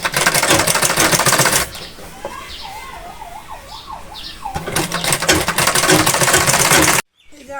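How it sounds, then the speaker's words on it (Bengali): Sewing machine stitching petticoat fabric, loud rapid mechanical chatter close up, then a pause filled by a faint whistled tune, then the machine running again before it stops abruptly. "এই তো এখন আমরা সেলাই করব।"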